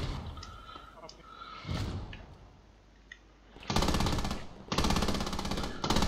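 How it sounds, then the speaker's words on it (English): Machine-gun fire roars in Squad: after quieter background battle noise and a few distant shots, two long, loud, close sustained bursts hammer out back to back. "he's getting some rounds down"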